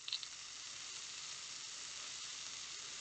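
Meatballs sizzle in a frying pan, a steady close hiss of frying with a brief clink from a fish spatula at the start.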